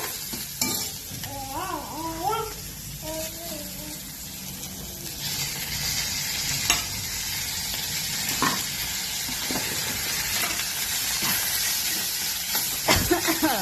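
Ginger garlic paste sizzles in hot oil with mustard seeds and chili in a steady, loud frying hiss close by. A voice briefly speaks over the start.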